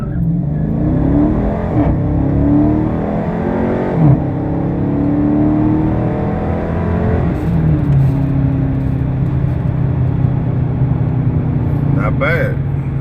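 A Dodge Charger RT in sport mode pulls hard from a stop, its engine note climbing through several gears with rising and falling sweeps and shift breaks. The sound is loud and close, with a voice briefly talking over it.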